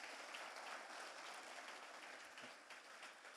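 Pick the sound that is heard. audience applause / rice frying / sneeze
audience applause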